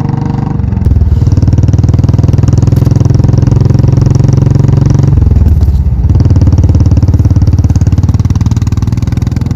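A motorcycle engine drones loud and close as the bike speeds up, a steady mechanical roar that dips briefly near the middle before surging back, used as an audio drama effect.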